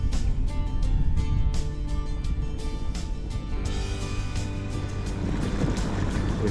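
A sailing boat motors slowly over clear water and coral, a steady engine drone and hull rush mixed with wind and water noise that hold even and close throughout, with no talk.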